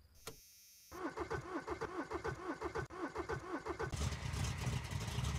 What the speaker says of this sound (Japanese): よし、いいエンジン音。